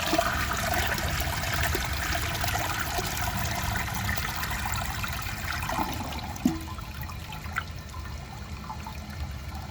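A 2011 Vortens Vienna toilet flushes with a loud, steady rush of water that runs for several seconds, then softens into trickling and gurgling as the bowl refills.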